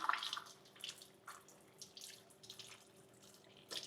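Sorrel leaves rinsed under a running kitchen tap, the water a faint, uneven splash with a few louder bursts as the leaves are moved about beneath the stream.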